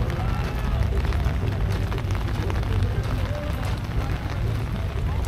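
Continuous patter of rain outdoors at a 1950s classic car show, a dense steady wash of drops with low rumbling background and some indistinct voices.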